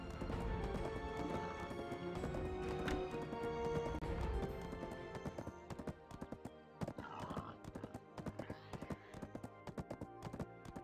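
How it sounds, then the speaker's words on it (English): Horse galloping in the Black Desert video game, rhythmic clip-clop hoofbeats with occasional neighs over game sounds and background music, fairly quiet. "This horse is feeling pretty slow."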